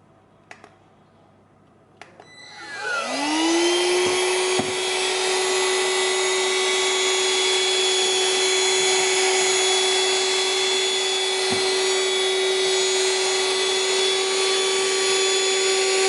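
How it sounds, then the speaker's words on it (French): A handheld vacuum cleaner switches on after a couple of clicks, rising into a loud, steady whine as it sucks up cauliflower and cheese crumbs, running continuously with no talk. "je vais vous montrer avec des miettes de chou-fleur, de fromage, et ça aspire super bien"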